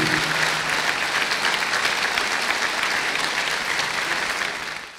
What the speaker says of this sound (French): Je vous demanderai non pas une minute de silence ni de vous lever, mais des applaudissements